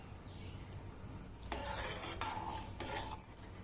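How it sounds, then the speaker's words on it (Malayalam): Rice is stirred in water inside a pressure cooker for soya chunks biryani, making a few scraping, rasping strokes against the metal over a faint background hiss, with no voices. "വെള്ളം ഒഴിച്ച് കഴിഞ്ഞ് അരി ഇളക്കി കൊടുക്കുക"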